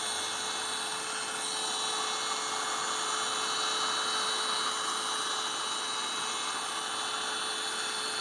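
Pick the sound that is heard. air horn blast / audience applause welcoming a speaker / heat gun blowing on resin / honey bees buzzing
heat gun blowing on resin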